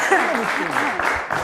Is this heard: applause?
yes